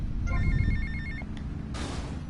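A payphone rings in Grand Theft Auto Vice City, a short electronic trill of rapid repeated tones heard once, mixed under low rumbling game background sound.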